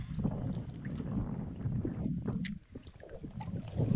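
Gusty wind buffeting close by while fishing for mullet, rumbling low and uneven, with occasional splashy knocks like water against a small boat.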